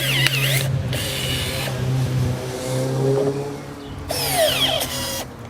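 Azito battery-powered pruners strain against a knot in a branch, giving off a whirring motor drone with creaking and grinding bursts near the start and again toward the end, close up and without talk.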